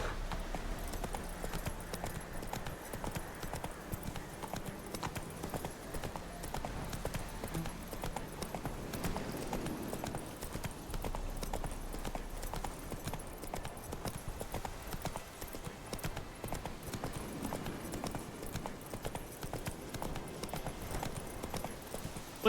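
Horse hooves clip-clop steadily at a trot in The Witcher 3 video game, a continuous rhythmic pattern of close, moderately loud hoofbeats over background game ambience, with faint voice now and then.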